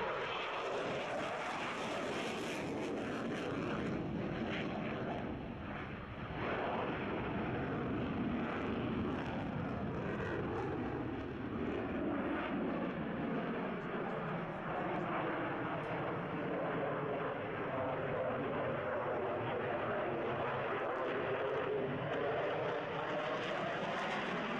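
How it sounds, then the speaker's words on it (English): A Lockheed Martin F-16AM Fighting Falcon jet flies at an air show, its roar rising and falling with a sweeping pitch shift as it passes, sustained and fairly strong throughout. "It's now Lockheed Martin"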